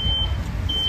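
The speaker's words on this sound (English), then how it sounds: "we can already hear that early detection, that smoke alarm going off" A high, piercing smoke alarm beep sounds in short bursts over a low rumbling background during a house fire sprinkler demonstration.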